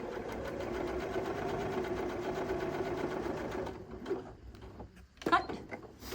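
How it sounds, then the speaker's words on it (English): A sewing machine stitches fabric together at a quarter-inch seam, running as a steady close whir for about four seconds before stopping, followed by a few quiet handling clicks. "And I'm just going to sew this together at 1/4 inch."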